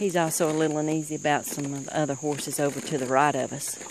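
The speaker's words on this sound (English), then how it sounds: "You can hear the crickets in the background." Crickets chirp steadily in the background around a horse barn, a faint continuous high trill running beneath a man's close speech throughout.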